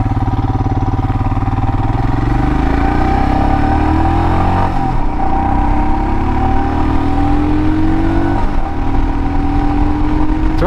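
A 2022 Royal Enfield Himalayan motorcycle engine drones loud and close, its pitch climbing steadily through the gears with brief dips at shifts as the bike accelerates on the road.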